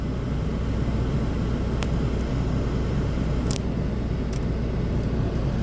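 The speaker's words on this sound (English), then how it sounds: "that was the car" A car passes on a Greenwood street, heard as a steady low rumble of road noise under the whole stretch, with no clear rise or fall and a few faint brief clicks on top.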